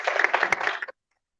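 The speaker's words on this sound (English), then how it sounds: "Please join me with a round of applause" An audience at a talk on supporting released political prisoners gives a short round of applause for a speaker, a dense, moderately loud patter of many hands that stops abruptly after under a second.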